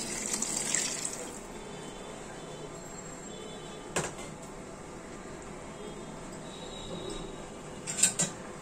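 Tap water runs steadily as a cooking pot is washed at a kitchen sink. A soft, constant hiss of flow is broken by a few brief clanks and splashes near the start, middle and end.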